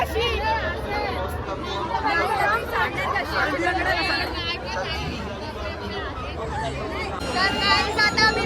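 Dense crowd chatter fills the grounds of the Kalher village fair (jatra) in 2024, a steady, loud babble of many overlapping voices close by, with shouts and calls rising out of the din throughout.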